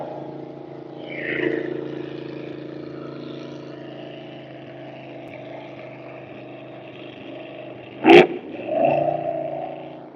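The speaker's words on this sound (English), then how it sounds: "I'll wait for this boat to go by." A motorboat engine drones steadily at a distance, swelling as it passes, with a sharp knock partway through.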